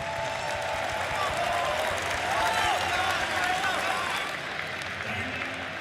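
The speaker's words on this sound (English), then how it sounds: "Can we give a big round of applause for Xingqiu and Extreme Gaming?" A crowd at The International 2024 Dota 2 esports tournament applauds steadily and loudly for several seconds, a dense wash of clapping without pause.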